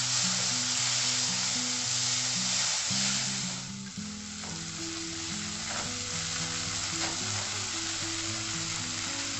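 Finely chopped blanched tomatoes sizzling in a hot pan for a raw banana kofta curry, a steady close crackling hiss with soft stirring scrapes and a background tonal hum, without any speech.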